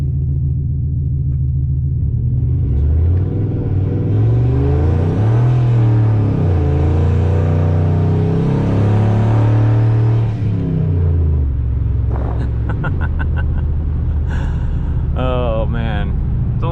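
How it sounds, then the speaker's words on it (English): Single-turbo Ford F-150 pickup pulling hard on a cold street, deep engine roar climbing through revs with audible shifts and pitch drops, loud and continuous, ending with chattering boost-cut bursts. "All right, so here we're gonna try a real heavy pull."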